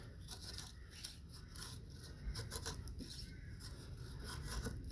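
A knife shaves wood into fine curls in a kitchen, giving a steady, close scraping and rasping with repeated strokes, fairly faint and with no talk.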